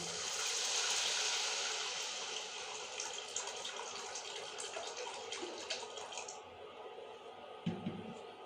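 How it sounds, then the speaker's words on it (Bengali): Water poured into a pan of cooked-down spice masala for a Bengali egg curry, a steady rushing pour that fades after several seconds into softer bubbling and a few faint clinks, with no talk. "এখন আমি পরিমাণ মতো জল দিয়ে দিচ্ছি"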